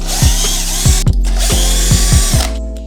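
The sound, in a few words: electric screwdriver removing hex screws from scooter rim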